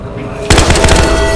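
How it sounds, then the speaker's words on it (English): Gunfire in the video game Battlefield Hardline erupts suddenly as a loud, close, rapid machine-gun burst of rattling shots that continues steadily to the end. "I heard gunshots!"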